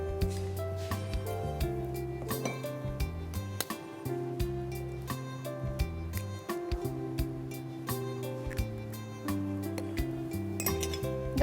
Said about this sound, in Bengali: দর্শক, আমি ডিম দিয়ে এটা খুব ভালোভাবে মাখিয়ে নিচ্ছি।